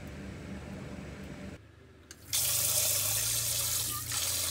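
Water runs from a van's tap, heated by a propane heater, in a steady hiss, cuts out briefly, then comes back stronger with a fuller, louder gush.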